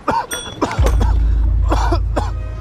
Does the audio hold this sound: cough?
yes